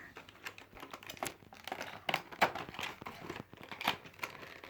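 Quiet, steady crinkling and tearing of plastic packaging on a Lego toy set, with sticky tape being pulled loose, in irregular bursts.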